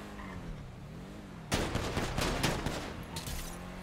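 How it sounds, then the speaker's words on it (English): Rapid gunshots in a video game police shootout start abruptly after a quieter stretch, firing in quick clustered bursts that stay loud and fairly close, then thin into scattered shots near the end, with no one talking. "Yeah, I see him, he's shooting at me."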